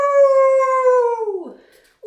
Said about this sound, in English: Howl! Wolves.